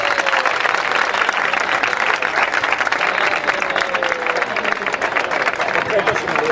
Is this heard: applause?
yes